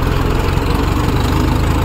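Mahindra Yuvo 575 tractor engine runs steadily at a low, throbbing idle, loud and close with a constant pulsing rumble and no talk over it.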